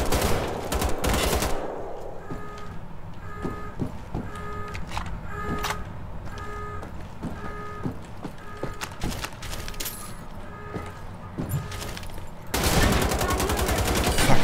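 Rapid automatic gunfire from the shooter game Wolfenstein: The Old Blood, short bursts at the start and end framing a run of evenly spaced single shots and mechanical clicks, loud and close.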